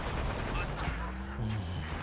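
Rapid gunfire from the video game Halo: Spartan Assault, a dense, continuous crackle of shots that fills the whole moment at steady loudness, mixed with game noise and some voice.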